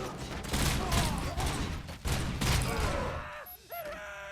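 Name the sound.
gunshots in a video game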